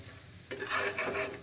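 Pieces of purple yam (pendalam) stir-fried in hot oil, sizzling quietly, then scraped and tossed close up in a brief burst of stirring.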